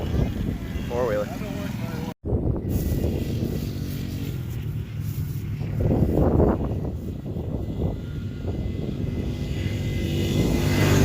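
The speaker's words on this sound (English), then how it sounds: "Four-wheeler." Four-wheeler ATV engine droning steadily as it rides past nearby outdoors, a continuous loud rumble that swells and fades, with a person talking over it briefly.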